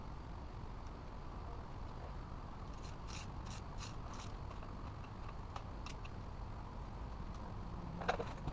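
Ratchet with a 12mm socket turning a bolt during a John Deere 2210 tractor transmission repair, giving a steady run of fine mechanical clicking under a constant noise floor, with a few brighter clicks near the end.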